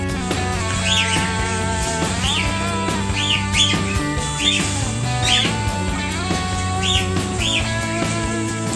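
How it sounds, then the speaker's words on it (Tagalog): Birds squawk and chirp close by in repeated short calls over a steady background hum, with no talk, as a neighbour's pigeon flies in among racing pigeons. "Kanino kaya itong ibon na to?"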